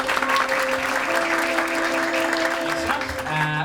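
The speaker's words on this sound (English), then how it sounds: "We'll do a round of applause at the same time as we all play a C note" An audience applauds while folk ensemble musicians all sustain a single C note at a concert, dense clapping mixed with steady held instrumental tones, loud and continuous.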